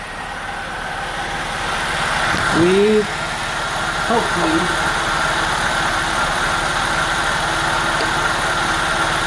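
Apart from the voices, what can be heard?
Saab 9-5 engine idling while warming up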